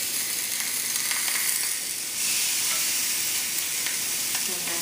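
Tandoori chicken sizzles loudly on a hot grill, a dense continuous hiss that swells after a short dip partway through, heard up close with no voices.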